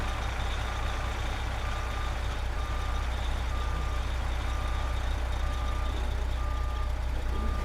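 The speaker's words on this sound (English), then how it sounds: "drive the Jeep straight back, and the truck will go straight back" Reversing beeps sound in American Truck Simulator, a regular chain of evenly spaced alarm tones over the deep, steady rumble of a heavy-haul truck engine idling, with no one talking.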